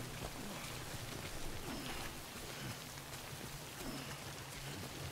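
Dense steady rain pours down in the video game Death Stranding, a constant hiss of drops on surfaces with no voices.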